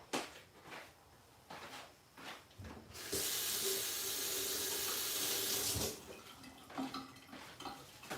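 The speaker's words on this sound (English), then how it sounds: "I'm going to wash my hand." Tap water runs steadily into a sink for about three seconds as hands are washed, loud and close, with faint clinks of dishes or a drawer before and after.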